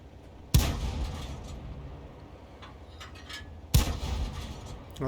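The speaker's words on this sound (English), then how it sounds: "the SU-122A just fired a round in there" Two heavy cannon blasts from an SU-122A tank in a video game, each a sharp boom rolling into a long decaying rumble, spaced about three seconds apart.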